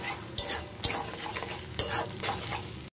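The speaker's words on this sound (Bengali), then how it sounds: "এটাকে ভালো করে মিশিয়ে ভুজিয়া করে নেব" Salted beaten eggs being stirred and fried into a scrambled bhujia in a hot pan: a steady close sizzle broken by repeated scraping strokes of a utensil, with no talking.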